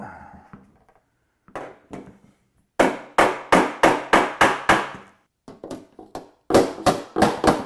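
A hammer strikes sheet metal on a dolly while repairing a car trunk lid, in quick runs of sharp, ringing blows: a few light taps first, then bursts of heavy, evenly spaced strikes with short pauses.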